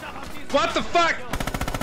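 Machine gun fire in the Red Orchestra 2 video game: a rapid rhythmic burst of shots near the end, following a short stretch of louder game sounds.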